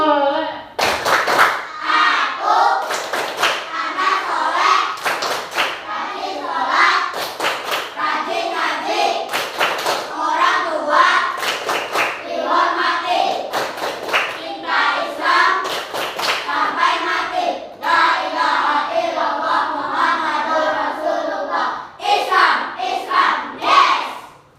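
Children clap the tepuk anak soleh chant in a classroom, bursts of sharp rhythmic claps in patterned groups alternating with their chanted voices, loud and close throughout.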